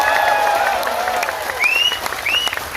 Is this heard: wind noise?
no